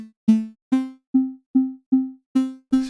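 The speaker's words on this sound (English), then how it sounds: "So we're getting quite a lot of that kind of sawtooth." Arturia Pigments synth patch layering a detuned unison sawtooth with a sine wave, playing eight short plucked notes at one pitch in an even rhythm, bright and buzzy, each fading quickly.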